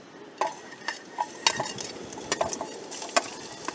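Garlic frying in oil at a motocamping cooking setup, with a low steady sizzle broken by sharp utensil clinks and stirring taps up close, and no voices.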